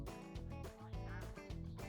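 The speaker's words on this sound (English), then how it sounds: "we've got chickens, lots of chickens" Chickens clucking and squawking up close on a homestead, a dense overlapping chorus of calls that never lets up.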